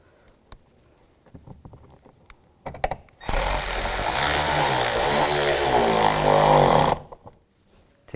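A power driver snugs screws into the door trim of a 2011-2015 Chevrolet Cruze, whirring loudly and steadily for about four seconds after some faint clicks and handling sounds, then stopping.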